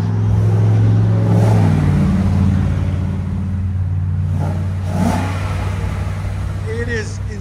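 Engine revving with aftermarket exhaust valves closed, a muted droning rev that swells and fades, with people talking over it close by.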